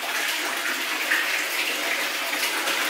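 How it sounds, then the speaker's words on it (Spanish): A hotel jacuzzi churns with a dense, steady hiss of bubbling water, close and continuous without breaks, and no one speaks over it. "lo que estáis escuchando, que aquí tengo la luz apagada, es un jacuzzi"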